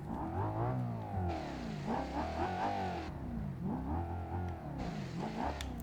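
Interior engine note of a Bolide 390 GT in BeamNG.Drive, revving up and down through several accelerations with a steady mechanical drone and no talking.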